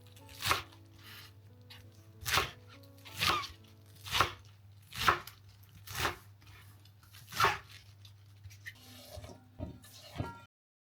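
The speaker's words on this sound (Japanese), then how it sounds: "小ネギは1束使います。 3センチくらいの幅に切りましょう。" A knife chops through a bunch of green onions on a cutting board in a steady series of about a dozen crisp thunks, close up and clear, with a few quicker softer cuts near the end.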